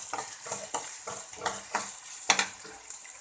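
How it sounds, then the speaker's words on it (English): Two finely chopped onions fry in a pan while being stirred, a steady close sizzle broken by repeated scraping strokes of a spoon about every half second. "We will cook the onion until it gets soft."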